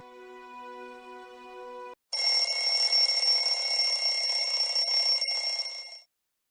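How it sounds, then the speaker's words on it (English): A tonal beeping gives way to a loud, shrill electronic alarm clock ringing continuously for about four seconds before cutting off abruptly. "my alarm woke me up."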